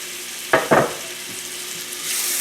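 Onions, peppers and chilies dropped into a hot frying pan for a vegan potato pea curry, two quick loud bursts of sizzle followed by a softer steady frying hiss, with no talking.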